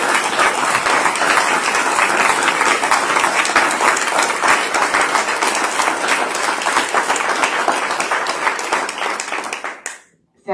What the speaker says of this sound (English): offer them a big round of applause for all of them.